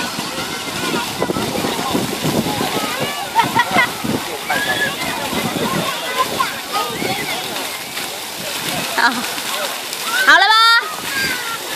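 Water splashes and sloshes as people rinse off at Dongshi fishing harbor, with a continuous wash of spray under frequent voices and a brief louder splash near the end.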